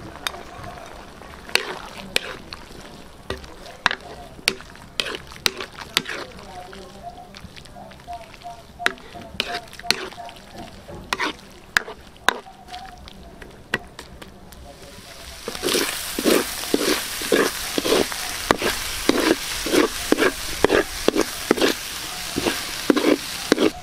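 Pork simmered with vinegar and radish in a Filipino kitchen is stirred and fried, giving a quiet clatter of utensil taps at first, then a louder steady sizzle with rhythmic scraping strokes over the second half.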